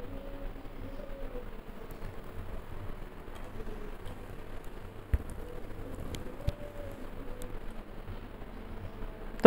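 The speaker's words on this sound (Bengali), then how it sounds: "পাঁচ ফোড়ন আর দিয়েছি শুকনো লঙ্কা। ফোড়নটাকে আমি খুব ভালো করে ভেজে নিব।" Panch phoron spices and dried red chillies fry in hot oil, giving a soft, continuous sizzle with occasional faint pops and clicks from stirring, low and steady throughout.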